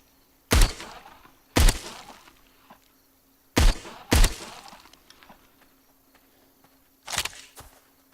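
Five gunshots from the VR zombie shooter Arizona Sunshine, fired singly at uneven intervals, each a loud, sharp broadband crack with a short decaying tail, set against a faint steady hum.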